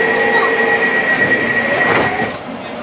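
A Crossrail Class 345 train runs between Forest Gate and Manor Park on the Shenfield line, a steady interior rumble with a high sustained motor whine, heard from on board and easing slightly near the end.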